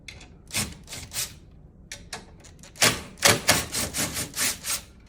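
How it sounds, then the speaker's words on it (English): Screws being backed out of a Flexsteel recliner base with a power driver, giving a series of short buzzing, ratcheting bursts separated by brief pauses, fairly close and loud. "Then we'll remove the other 4"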